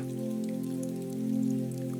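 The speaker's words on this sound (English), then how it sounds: "Outside, rain continues like a soft drum" Steady rain falls outside a cozy café, a continuous soft patter with a low sustained tonal hum beneath it, evenly loud throughout with a slight swell near the middle.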